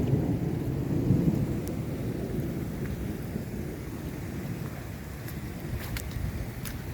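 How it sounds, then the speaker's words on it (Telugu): Heavy summer rain pours steadily in North Carolina while deep thunder rumbles, loudest near the start and then rolling on under the constant hiss of the downpour. "కుంభవర్షం పడుతుంది ఇక్కడ"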